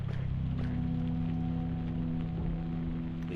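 Soft, steady rain patters in the Nophenia game world, a faint, even hiss layered over a low droning hum, with no voices.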